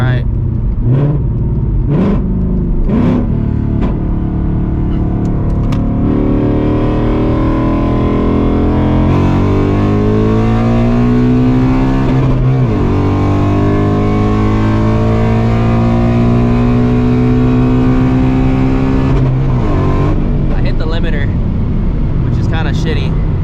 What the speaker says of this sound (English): I hit the limiter going from second to third on accident.